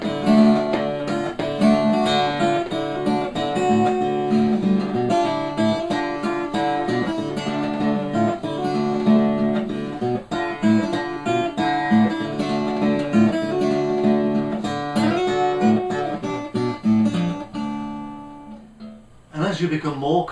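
A blues guitar melody picked one note at a time with a single finger, plain and without grace notes, moving continuously and fairly busily at a moderate loudness for about twenty seconds before it stops.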